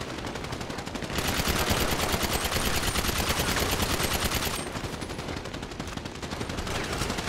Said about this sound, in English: You're not shooting up outside.